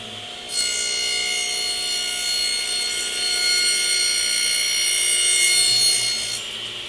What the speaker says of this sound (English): Reach down and turn the saw on. And draw it through the work in a smooth motion.